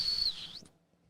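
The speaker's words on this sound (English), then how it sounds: "That's like a mild whistle." A person whistles through a gap in their teeth, a single high, thin tone that slides downward and cuts off after half a second, close and fairly soft, followed by quiet.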